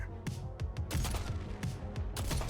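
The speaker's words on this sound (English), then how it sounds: "see what you can snipe with your sniper rifle here" A sniper rifle fires during a Destiny 2 firefight, with several sharp, booming shots ringing out in a rapid, irregular volley over steady background battle noise.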